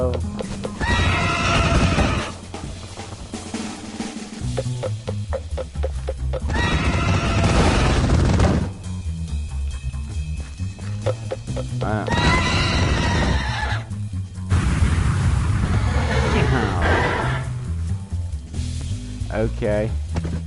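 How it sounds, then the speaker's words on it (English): A demon horse in Minecraft's Nether gives long, loud neighs and whinnies in repeated bursts, separated by gaps where game noise and low voices fill in. "It's a demon horse."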